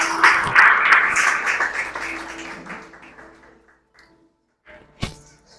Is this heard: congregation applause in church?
yes